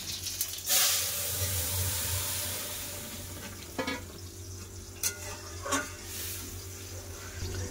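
Boiled lentil dal poured into a pan of tempered spices, with panch phoron, broken dried red chilli and bay leaf, hitting hot oil in a loud hissing sizzle that settles into a steady fry with a few clinks.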